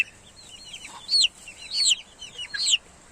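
Hens cluck in a few sharp, close bursts spaced about half a second apart over a quiet background, with no one speaking.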